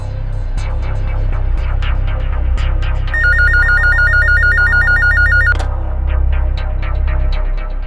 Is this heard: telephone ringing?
yes